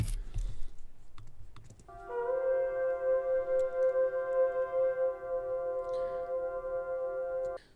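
An F sus chord built from frozen flugelhorn samples on a TC Electronic Infinite Sample pedal swells in after a short pause and then holds as a steady layered drone. A soft click sounds near the start.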